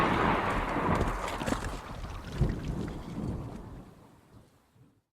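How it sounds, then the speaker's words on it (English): A deep, rumbling clap of thunder rolls out loud and broad, then gradually fades away into near silence. "the chariot rockets forward, vanishing back into the earth with one final clap of thunder"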